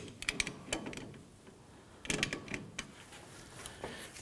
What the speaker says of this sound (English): We want to loosen this jam nut. We're going to use a pair of large pliers here.